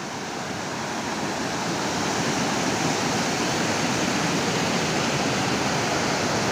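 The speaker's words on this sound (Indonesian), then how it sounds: "Ini alirannya cukup deras" Curug Tubang waterfall flowing strongly, a dense, steady roar of falling water, loud and constant throughout with no talking.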